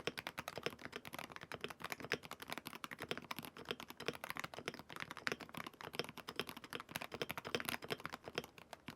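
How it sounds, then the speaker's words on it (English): Rapid, even typing on a Wooting 80 HE magnetic keyboard, each keystroke a sharp, close click in a busy, continuous rhythm with small pauses, heard alone without speech. "Here's a little sound test of the Wooting 80 HE."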